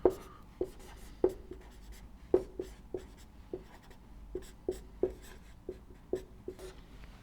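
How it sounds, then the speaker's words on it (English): Writing during a lecture, a series of sharp tapping strokes, about a dozen evenly spaced taps at a steady rhythm, close and fairly quiet, with no talk. "Let me write it down clearly for you."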